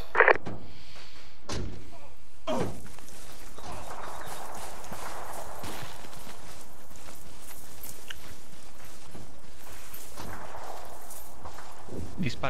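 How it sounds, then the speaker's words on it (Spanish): Sharp gunshots ring out during a tactical operation, with a few isolated cracks spread across the stretch. Between them are quieter movement and ambient noise. "Disparos, ¿eh?"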